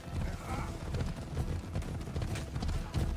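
Horse hooves gallop in Assassin's Creed Odyssey, a fast, close, steady clip-clop with rumbling thuds running the whole time and no clear voices over it.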